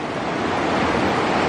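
Swift, fairly deep river water rushing steadily during a river crossing on the trail to Curug Cilalay waterfall in Karawang-Jonggol, a loud, close, continuous wash with no voices.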